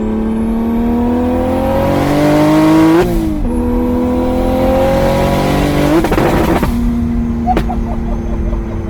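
A 715 whp BMW 335i with a single-turbo N54 engine accelerates hard, its loud engine note climbing steadily, then dropping sharply at an upshift into third and rising again, with a brief chirp near the end.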